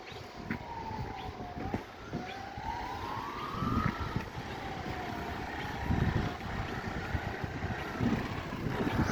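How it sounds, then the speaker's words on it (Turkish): A wailing ambulance siren rises and falls in sweeping tones over busy outdoor rumble in Elbistan, moderately distant and fairly faint. "Ambulanslar sabahtan beri hiç durmadılar."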